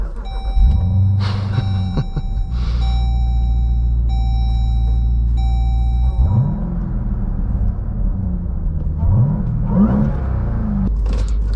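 A 2023 Dodge Durango Hellcat SUV with a 710 hp engine idles with a deep, loud rumble, then launches hard, its engine note sweeping up through several surging pulls up close.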